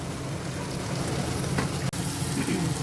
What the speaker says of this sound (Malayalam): നമുക്കതിലേക്ക് ടൊമാറ്റോ, തക്കാളി ഒന്ന് ചേർത്ത് കൊടുത്ത് നന്നായിട്ടൊന്ന് വഴറ്റിയെടുക്കാം